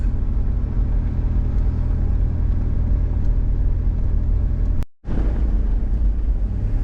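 A car on a scenic drive through bushveld near the Shingwedzi River, its steady engine rumble and road noise continuous and close, with a brief dropout near the end before the drone resumes.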